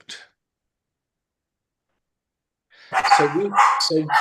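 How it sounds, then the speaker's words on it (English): A dog barks in a short burst at the very start of a quiet indoor group class, followed after a long silence by people talking. "whose dog's that?"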